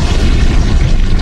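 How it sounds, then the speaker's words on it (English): A bomb explodes in a video game with a loud, continuous low boom that fills the whole second or so, heard alone without talk. "Now the bomb will explode in 3, 2, 1!"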